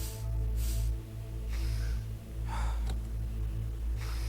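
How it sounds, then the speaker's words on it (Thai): Heavy breathing in the Hello Neighbor video game: several separate breaths, loud and close, spaced a second or so apart over a constant low hum, with no speech. "ทำไมได้ยินเสียงหายใจ วะ"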